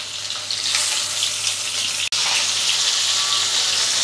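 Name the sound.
catfish frying in oil on high flame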